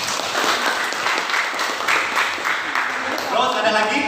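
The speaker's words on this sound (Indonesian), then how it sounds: "Tepuk tangan, Reza." A primary school class applauds a student during a long jump lesson, a burst of scattered clapping from many children mixed with their chatter and voices, loud and close.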